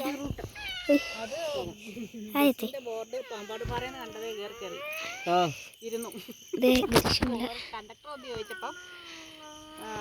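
A cat meows several times in drawn-out, wavering cries, close by, with people talking over and between the calls.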